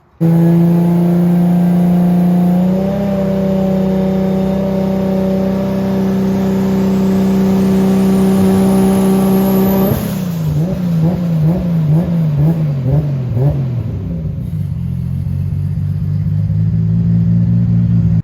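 A Nissan Skyline R32 GTR tuned past 600 wheel horsepower revs hard on a dyno, its engine note climbing steadily toward 8,000 RPM, then dropping off as the throttle is released and settling into a lower burbling idle, loud and close.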